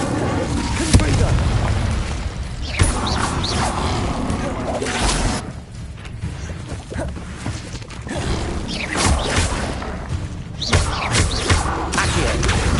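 Explosive Confringo spell blasts in the Hogwarts Legacy video game, loud booms and bursts among busy combat effects, recurring across a dense, noisy stretch.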